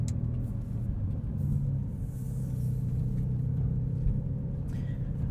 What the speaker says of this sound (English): there's your POV night drive in the 911 Turbo S